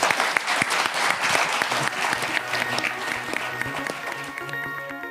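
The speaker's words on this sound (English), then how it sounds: "Can we have a round of applause for Governor Weld?" An audience applauds Governor Weld with a burst of many hands clapping that starts strong and slowly tapers, a few voices murmuring underneath as it fades.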